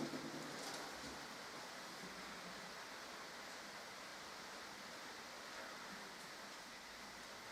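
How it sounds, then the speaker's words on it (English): Heavy pouring rain makes a steady, dense wash of noise that stays loud and unbroken throughout, with no voices over it. "Listen to the pouring rain, listen to it pour."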